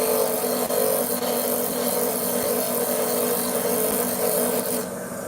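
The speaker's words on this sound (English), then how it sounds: "We're just doing a little bit of polishing here." Gemstones being polished on a spinning machine give a steady, close grinding and rubbing whir with a constant tone, running evenly without any talk.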